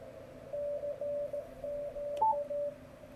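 Radio receiver output through a narrow 50 Hz filter, a faint thin tone keyed on and off in short Morse-like bursts over a quiet hiss, with one brief higher blip near the end.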